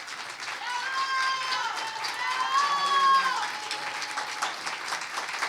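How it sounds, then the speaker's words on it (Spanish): Audience applause in a congressional hall, sustained clapping rising and falling gently across the clip while a presenter speaks over it. "Un aplauso y agradecimiento."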